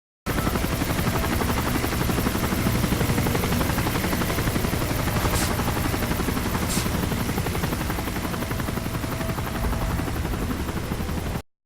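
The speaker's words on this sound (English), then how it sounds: "Wait for the helicopter to pass the flare" A helicopter flies overhead in the video game Call of Duty: Modern Warfare 3, its loud, steady rotor roar filling the whole stretch, with two brief sharp bursts near the middle and no talking.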